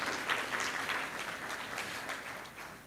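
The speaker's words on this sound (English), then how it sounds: "Please, can we have a louder round of applause for Nemo?" Moderately faint audience applause at a conference event on climate and extractive communities, a continuous patter of many hands for about three seconds.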